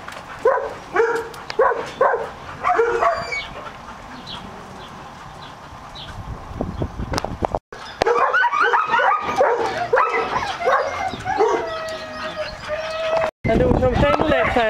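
Six puppies whimper, yip and bark in bursts, close up, with high-pitched squeals overlapping and a person talking among them.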